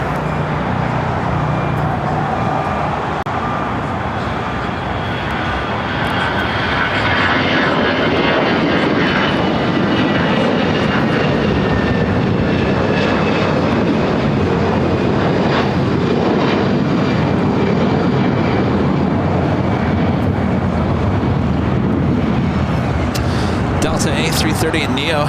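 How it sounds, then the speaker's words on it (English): An Avianca Airbus A320 in Surf City El Salvador livery takes off at Los Angeles airport, a loud, close, steady jet roar that fills the whole stretch, with a voice talking over it. "Avianca in the Surf City, El Salvador livery, flight 733 heading to Guatemala City. It's an A320. Now rolling down to 5 right."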